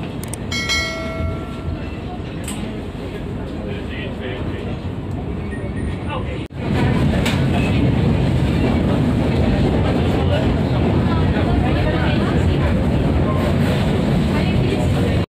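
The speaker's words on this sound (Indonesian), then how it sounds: "jam 11 lebih 15 menit kereta api Ranggajati diberangkatkan dari Stasiun Besar Tugu" The Ranggajati executive passenger train departing Yogyakarta Tugu station, rolling noise that jumps abruptly louder partway through and then holds a dense, close rumble, with people talking.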